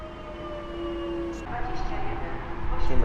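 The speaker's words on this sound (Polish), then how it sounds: "na horyzoncie widać już najprawdopodobniej pociąg międzynarodowy Intercity Hańcza" The Intercity Hańcza international train approaches Warszawa Służewiec station, a low rumble with steady tonal hums that grows louder and rougher as it nears.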